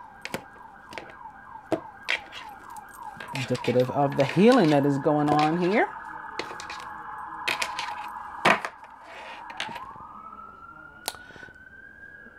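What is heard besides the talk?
emergency vehicle sirens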